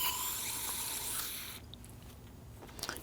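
Solvent sprays and splashes as it flushes old grease and debris out of a rear brake caliper port on a 2013-2019 Ford Police Interceptor Utility, a steady hissing wash for about a second and a half that then fades to faint drips and trickles.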